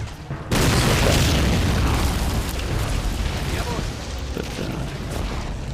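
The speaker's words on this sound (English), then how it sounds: "as you can see, artillery is really dangerous. So, exploding troops all around the place." Artillery explosions in the Men of War Assault Squad video game: a sudden loud boom followed by a long rumbling roar and scattered smaller blasts.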